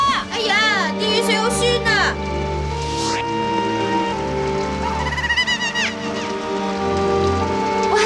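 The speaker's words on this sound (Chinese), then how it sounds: "而家啲雨水啊，腐蚀晒嗰啲树木添啊" Acid rain pours down steadily on a cartoon island town, falling on trees and ground as a constant patter beneath music, chirping and animated characters' voices.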